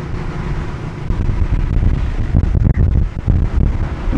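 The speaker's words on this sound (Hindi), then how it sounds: "गाइस इतनी ठंडी हवा चल रही है कि आप सोच नहीं सकते," Strong cold wind buffets the microphone outdoors beside open fields on a solo ride, as a loud continuous rumble with gusts that swell in the second half.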